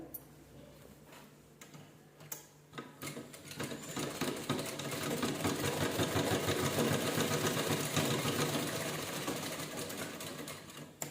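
A sewing machine stitches a child's cap made from an old shirt, its rapid, regular needle clatter starting after a quiet moment and running close and steady to the end.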